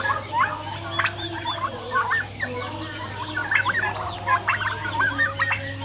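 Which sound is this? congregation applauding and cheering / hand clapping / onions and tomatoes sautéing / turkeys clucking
turkeys clucking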